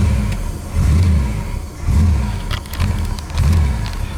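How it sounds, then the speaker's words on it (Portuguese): A 1978 Dodge Charger R/T engine runs with a suspected water pump noise, revving in repeated low surges about once a second, close and loud, with no talking. "Vê se dá pra ouvir o barulho de bomba d'água."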